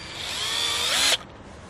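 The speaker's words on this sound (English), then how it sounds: "I'm just going to drill some screws here into the Hot Wheel track." Power drill driving screws into plastic Hot Wheels track, a close whining spin that rises in pitch over about a second and stops abruptly, leaving quiet room noise.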